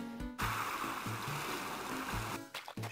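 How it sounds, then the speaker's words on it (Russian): Sea waves wash continuously onto the shore in the PokeMMO video game, a steady broad rush of surf beneath short, plinking game music notes. "Шум моря, все такое на берегу."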